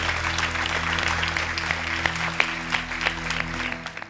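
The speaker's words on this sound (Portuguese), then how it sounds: "Dê um aplauso bem forte." A church congregation claps hard after a prayer, a dense patter with sharp individual claps over a steady low electronic hum from the sound system.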